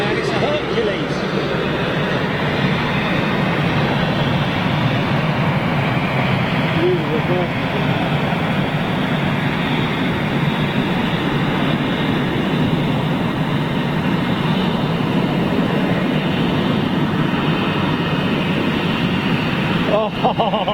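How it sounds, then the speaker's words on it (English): A Lockheed Hercules C-130 military transport aircraft flies over at Lisbon, a steady, loud broadband engine roar held throughout, with people talking over it. "It's a Hercules, yeah, C-130."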